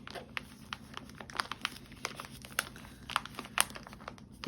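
Thin plastic wrapping film crinkles and rustles close up in quick, irregular bursts while being pressed onto a gift pouch, quiet overall with sharp crackly peaks.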